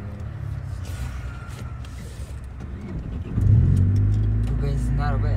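Petrol car engine running while driving on a street in Izmir, a steady low drone that rises louder partway through as the car accelerates, with people talking over it.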